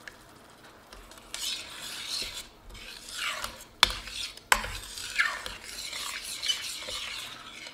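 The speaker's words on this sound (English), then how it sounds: "I'm going to add about 2 cups of heavy cream to it" Heavy cream hits a hot sizzling pan and is stirred, giving a soft hiss with rasping scrapes of a utensil against the pan and a few sharp metallic clicks, close and fairly quiet.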